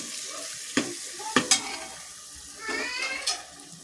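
Spices including Kashmiri red chili powder sauté in hot oil for Mumbai-style pav bhaji, with a quiet sizzle, a few sharp spoon clinks against the pan and brief stirring scrapes up close.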